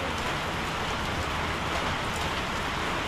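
Steady rain falling on a rainy day in the Philippines, a dense continuous patter of drops with no voices, even and unbroken throughout.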